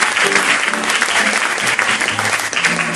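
A church congregation applauding in acclaim of Jesus, loud, dense clapping from a crowd that fills the whole stretch, with scattered voices mixed in.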